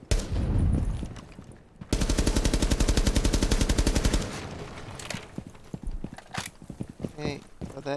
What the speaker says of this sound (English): before we kind of get this wall open, we're going to have to shoot it